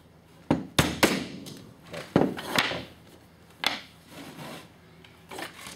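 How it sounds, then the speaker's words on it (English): Rubber mallet giving light taps to a magnetic V nail punch, a handful of distinct close knocks spaced irregularly with quiet gaps between them. "Just a light tap with a mallet. I use a rubber mallet."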